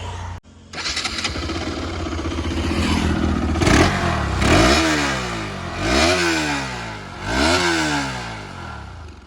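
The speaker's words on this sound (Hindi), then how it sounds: "उसके बाद मैं आपको बाइक की आवाज़ सुना देता हूँ कि आज भी इतने 7 साल बाद की बाइक की आवाज़ कैसी है" A Bajaj Pulsar RS 200 motorcycle with about 40,000 km on it starts up, idles steadily, and is then revved three times in a row, each rev climbing and falling back. The engine is loud and close, and no one speaks.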